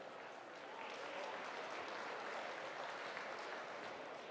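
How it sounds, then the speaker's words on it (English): An audience applauds continuously, a dense, even patter of many hands clapping that swells slightly and holds steady. "Round of applause if you were at the session this morning with the ministers."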